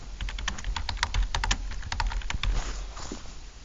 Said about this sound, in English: click the letter M on your keyboard